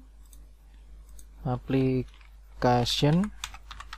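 Computer keyboard keys click while code is entered into a Google Sheets script, with scattered light taps heard around a person speaking briefly.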